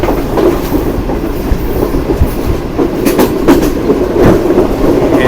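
A Green Line express train rumbles loudly along the tracks with rhythmic clickety-clack of wheels over rail joints, close and continuous, as it passes through the small Taraki railway station in Pakistan on the main line.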